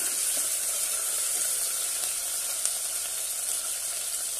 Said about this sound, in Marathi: 3 हिरव्या मिरच्या उभ्या चिरून घेतल्या आहेत ते घालूया। छानपैकी परतून घेऊया।